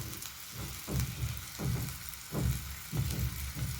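Ginger-garlic paste, chili powder, salt and coriander powder fry in a pan for drumstick and tomato curry, sizzling steadily close by, with stirring scrapes swelling at regular intervals about every three-quarters of a second.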